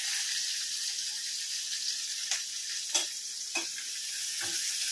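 Onion and chili sizzle in hot oil in a pan, a steady close broadband crackle with a few sharper stirring clicks scattered through, no voices.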